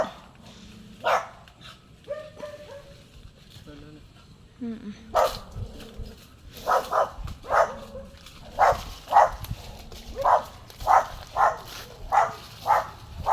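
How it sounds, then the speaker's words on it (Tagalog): A dog barks angrily in a long run of regular, evenly spaced barks at close to moderate range, preceded by a few scattered yips and background noise outdoors. "Galit na galit po sa amin yung aso."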